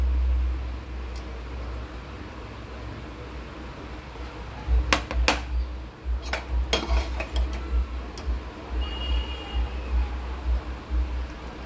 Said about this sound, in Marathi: आता मी गॅस बंद करत आहे आणि प्लेटमध्ये सर्व करत आहे.